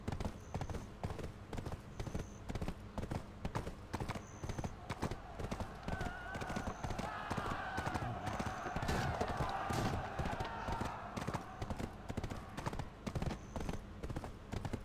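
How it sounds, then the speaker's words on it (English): Rapid rhythmic hoofbeats of a galloping video game horse continue throughout at a steady pace, with brief whinnying noises and a faint voice underneath. "Go, horse, go, go, go,"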